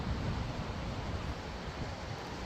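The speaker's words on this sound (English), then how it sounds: "Look at how powerful this is. Look at how the water is coming down." Skogafoss waterfall in Iceland, a broad, steady roar of crashing water, loud and close, with wind buffeting the microphone.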